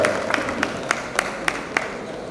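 At a state-level teacher programme in a school, a school audience claps in a slow, even rhythm, about seven distinct beats spaced roughly a third of a second apart over a soft crowd murmur.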